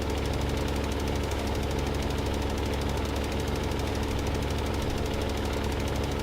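A tractor pulling a big drill on a quad track rumbles in Farming Simulator 15, a steady, dense engine drone with a knocking pulse that holds without variation.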